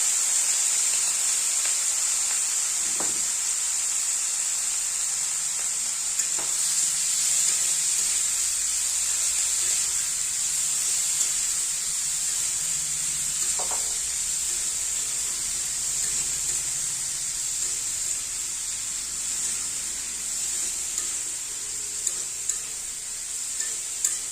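Chopped prawns fry in hot oil with green chillies for a sweet pumpkin curry, a steady bright sizzle that carries on throughout with a few faint clicks of stirring, close and with no voices.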